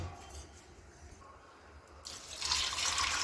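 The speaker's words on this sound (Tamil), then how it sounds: "தேவையான அளவு தண்ணி ஊற்றி அதை நல்லா வேக வச்சிடுங்க." Water is poured into a pan of toor dal prepared with asafoetida and turmeric for cooking, with a soft pouring splash that rises and grows louder in the final second, close by and with no talk.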